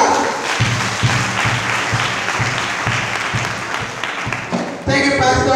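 Audience applause at a gathering rolls on loud and continuous right after a prayer, a thick wash of many hands clapping that gives way to a voice speaking at the end.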